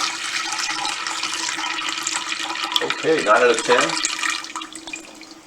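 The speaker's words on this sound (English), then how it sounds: "Fill some more water up here." Tap water running into a cooking pot holding clams, oysters and dill for pasta: a steady hiss that swells into louder splashing and gurgling toward the end, then tapers, with a person talking briefly.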